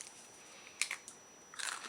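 Homemade almond roca toffee is bitten, giving two close, crisp crunches about a second apart in an otherwise quiet room.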